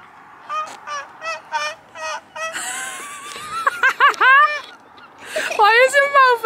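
People imitate bird calls with their voices, giving a run of short rhythmic honking hoots and then drawn-out squawking, wavering cries, loud and close, with a voice mixed in.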